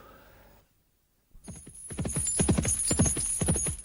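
Horse hooves clip-clop at a steady trot after a brief silence, close and fairly loud, with a high tone held behind the hoofbeats in a radio drama set around a medieval abbey stable.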